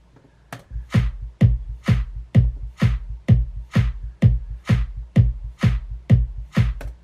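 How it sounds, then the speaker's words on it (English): Kick drum and bass playing together in an FL Studio beat, a steady pulse of about a dozen punchy low thumps with a sustained bass tone underneath, with no voices. "So then together with the kick and the bass sounds like this."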